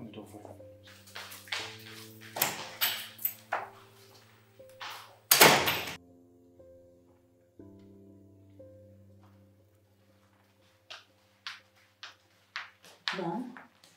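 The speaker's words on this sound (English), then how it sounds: "I'll open the door for you." An indoor door is opened and shut, with several sharp knocks and thuds and one loud slam near the middle, set over a steady low hum and scattered talk.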